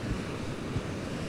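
Rushing water from a river swollen by heavy rains in Apatzingán, a steady broadband roar with wind-like rumble, continuous and fairly loud throughout, no voices.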